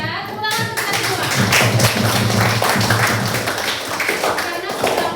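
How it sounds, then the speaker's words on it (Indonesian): Hand clapping from a teacher and group of students in a classroom math lesson, a dense, continuous burst of many claps, loud and close, with some voices mixed in. "Saya tepuk tangan untuk kalian semua."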